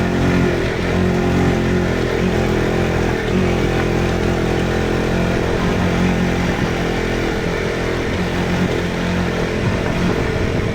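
A motorcycle rides uphill on a road, its engine droning loud and steady from start to finish with no voices over it.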